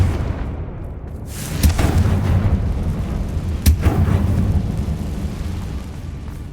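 Two booming blasts of the Confringo explosion spell in Hogwarts Legacy hit a couple of seconds apart, loud and rumbling over steady low background noise.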